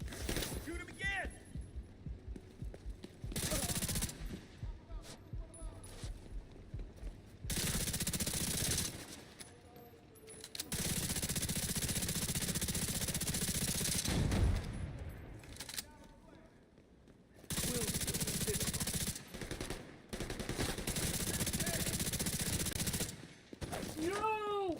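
Gunfire in The Division 2 breaks out in rapid, loud automatic bursts and single shots with short gaps between them, while a player's voice shouts over the fighting.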